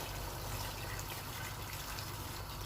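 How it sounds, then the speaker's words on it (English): Steady hot water pouring into a pot of bitter leaf soup, a continuous close gush without pauses. "Pour in some hot water."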